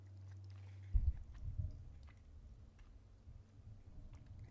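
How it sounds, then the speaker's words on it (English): Chewing right at the microphone during a live baseball play-by-play stream, a few soft, wet, close bites and clicks over a low steady hum, with no talk. "Sorry about the chewing."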